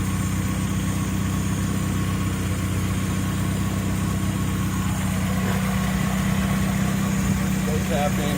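A Mazda Miata engine idles steadily with a vacuum leak at a throttle hose, a constant low rumble running close and loud throughout with no revving.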